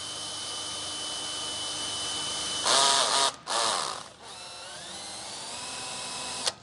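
Cordless power drill on its softest clutch setting driving the manual jack input on a fifth-wheel RV, a steady whine that stutters and breaks off as the clutch slips, then resumes briefly with a ratcheting, uneven tone.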